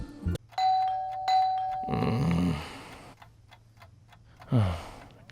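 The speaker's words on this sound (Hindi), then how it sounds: "अपने घर में ना जाके मेरे घर की डोरबेल क्यों बजाई बता?" A two-tone doorbell chime rings twice in a home, each ding-dong ringing out clearly, followed by footsteps and a muffled thud and a brief rustle.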